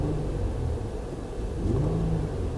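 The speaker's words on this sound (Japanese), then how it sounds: "それではいつものように軽く空深してみます。" A 2011 US-market Honda Odyssey EX with a 3.5-liter VTEC V6 revs lightly while parked, a steady close engine drone rising smoothly in pitch and falling back, with no talk.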